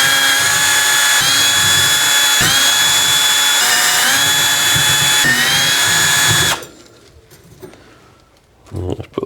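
A power drill on a Trek bike's brake disc rotor whirs loudly and steadily in short bursts with brief pitch dips, then stops abruptly, leaving a quiet workshop with faint rustling.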